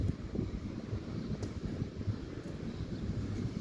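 Steady wind blows outdoors with low rumbling buffeting on the microphone, continuous and fairly loud, while a paper airplane is being tested.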